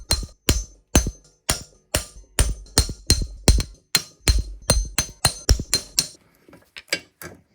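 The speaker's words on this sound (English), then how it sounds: "So now I'm just gonna go around and give them a tap tap." A hammer taps metal bolts on a Honda XR80 motorcycle, about twenty sharp, ringing strikes in quick irregular succession, close and clear, with no talk.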